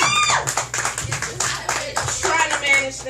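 A modest round of applause at a small live performance for an artist, a handful of uneven claps and taps with voices chatting over them.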